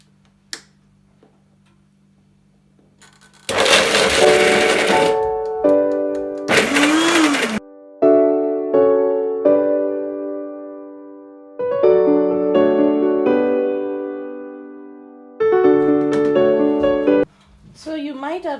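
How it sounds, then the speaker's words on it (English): Kitchen blender pulsing garlic and ginger into paste, loud whirring bursts of a few seconds each separated by pauses, with a person talking quietly between them. "this blender is quite powerful, far more powerful than I thought"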